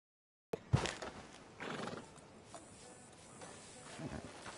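A horse in Red Dead Redemption 2 snorts and whinnies near the start, followed by quieter hoof movement and shuffling, faint overall against a hushed in-game background.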